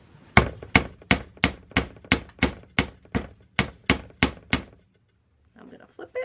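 Wire jewelry being hammered on a metal bench block: a dozen sharp, ringing metallic strikes in a steady rhythm, close and loud, followed by a pause and a soft voice speaking.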